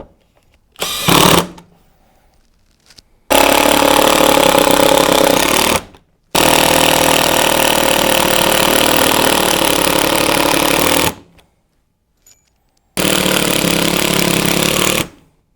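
A power drill drives SDS screws into a roof deck beneath BRAVA synthetic slate in several loud, long bursts of grinding whir, separated by brief silences, close by.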